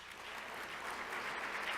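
Gala audience at an awards dinner applauding, a steady dense wash of clapping that stays even for the whole short stretch, with no voices heard over it.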